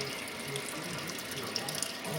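Warm water runs steadily from a tap into a pot for all-grain homebrewing, a continuous soft splashing flow at moderate distance with a few small clinks near the end.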